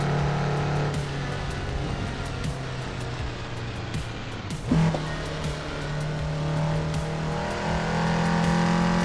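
A low-powered car in the Assetto Corsa racing game drones steadily with a sustained engine tone that shifts pitch as it slides and accelerates, with a brief tire squeal midway.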